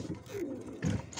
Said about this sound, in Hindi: और अब मैं आपको ये वाले कबूतर दिखाता हूँ।